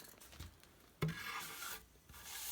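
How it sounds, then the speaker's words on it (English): A red oak board is planed by hand in a woodworking shop, producing soft close rubbing and shaving strokes with a sharper scrape near the middle. "So in this case, we're going to continue planing this board."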